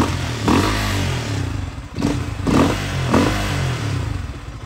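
Husqvarna Svartpilen motorcycle with a DIY airbox mod idling, a steady low engine rumble that swells in a few short blips of throttle, close and fairly loud with no talk.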